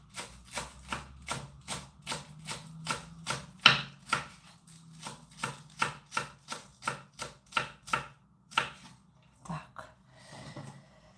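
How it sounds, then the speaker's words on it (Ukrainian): Green onion is finely chopped with a knife on a board, about twenty crisp close knocks in a steady quick rhythm that slows and thins out toward the end. "Нарізаємо її. Дрібненько так нам потрібно нарізати."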